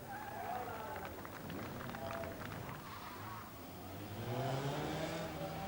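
A large saloon car on a classic autotest course in Northern Ireland revs and accelerates through tight manoeuvres, its engine note rising and falling, with a commentator talking over it throughout.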